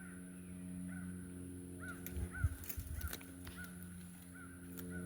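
A crow caws repeatedly in the woods, several distant, faint calls spaced out across a quiet outdoor background with a few soft thuds of movement nearby.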